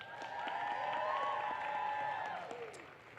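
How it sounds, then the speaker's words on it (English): An audience at a Raas dance competition applauds the judges, a steady wash of clapping with some cheering voices underneath. It swells and then fades near the end. "Please give a warm round of applause for the judges."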